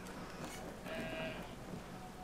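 A sheep in the video game Brothers: A Tale of Two Sons bleats briefly near the middle, one short call over a steady background of game ambience and music.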